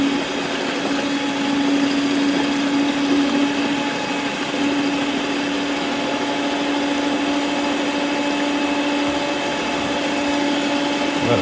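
An electric mixer beats wet cupcake ingredients, eggs included, with a steady motor whine running unbroken and fairly loud throughout, with no talk.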